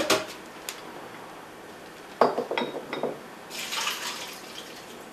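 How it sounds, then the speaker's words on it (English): Soaked walnuts, nuts and seeds tipped into a colander, giving a few glassy clinks and knocks at the midpoint, then a soft running trickle of water toward the end; quiet room, no talking. "I'm just going to drain them all together in the same colander because it's all going to go together in the food processor"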